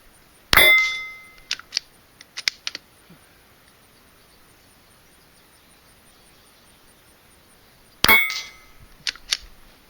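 At an NRL22 training camp, two sharp .22 rifle shots ring out against steel targets several seconds apart, each a crisp crack with a metallic ping, followed by faint clicks and clatter of the rifle's action.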